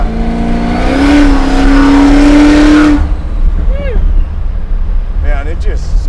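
A supercharged Chevy Nova pro-touring muscle car, 750 hp, revs up hard under throttle, its pitch rising and holding loud for a couple of seconds before dropping back to a rumbling idle, with short blips following.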